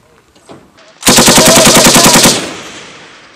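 Rapid automatic weapon fire on a military training range, a loud sustained burst of evenly spaced shots lasting over a second, preceded by faint background sounds and trailing off into a fading echo.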